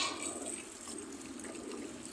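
Water pours continuously from an open pipe into cattle feed being mixed during the summer, a soft steady splashing rush at low level, with no talking.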